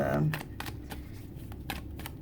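Tarot cards are shuffled close by in quick, soft papery bursts, several short riffles in a row against a quiet room.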